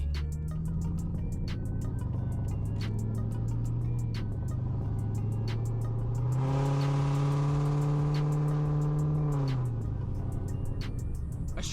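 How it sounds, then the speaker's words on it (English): A straight-piped Ford Mustang GT with an automatic 2V engine drones loudly while driving, then revs hard for several seconds with a rising, rasping exhaust roar before easing back to a steady cruise. "A straight pipe Mustang GT."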